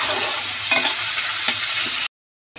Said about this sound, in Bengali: চিংড়ি মাছটা এখন আমি এমনি লাল করে ভেজে নেব।